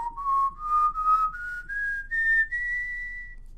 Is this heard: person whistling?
yes